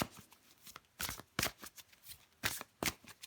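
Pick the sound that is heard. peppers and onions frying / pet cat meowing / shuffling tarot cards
shuffling tarot cards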